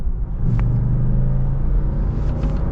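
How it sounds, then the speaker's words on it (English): 2021 Lexus GX 460 accelerating in manual mode, a low steady engine rumble from inside the cabin with a brief shift change, close and without talk. "we'll kind of slow down just for a second, just get another minor little acceleration, but this time we'll do it in the manual mode"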